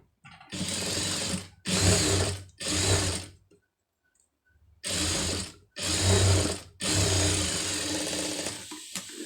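A tailoring sewing machine stitches a seam in six loud, close bursts of rapid mechanical whirring, each lasting about a second or two, separated by short silent pauses, with no voices.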